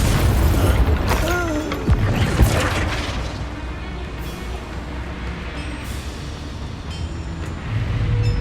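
A Confringo blasting spell in the Hogwarts Legacy video game: a sharp explosive burst with crackling debris near two seconds, over a loud rumbling, mechanical background that lingers throughout.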